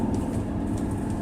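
A 1985 Mercedes 300SD turbo diesel sedan on a test drive gives a steady low engine and road rumble inside the cabin through a brief downshift, with no talking.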